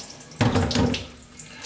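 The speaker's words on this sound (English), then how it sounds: "Cold water, of course, otherwise it will cook. And we just rinse it." Cold tap water runs over a piece of salt cod (baccalà) being rinsed in a kitchen sink, a sudden close gushing splash that fills the sink and then settles into a softer stream.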